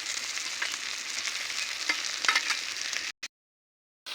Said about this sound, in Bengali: রাখা মাছের মাথাগুলো দিয়ে দেব।